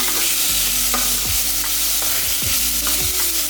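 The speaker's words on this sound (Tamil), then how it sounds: "பாருங்கள், இப்போ நல்லா வதக்கியாச்சு" Tomatoes and broccoli masala sauté loudly in a pan with a constant close sizzle, while a utensil stirs and scrapes through them in repeated strokes.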